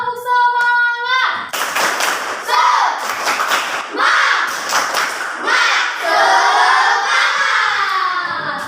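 Schoolchildren in an Indonesian primary classroom perform the Tepuk Semangat rhythmic clapping chant, sharp group claps falling in patterned bursts mixed with loud chanted voices and an adult voice leading at the start.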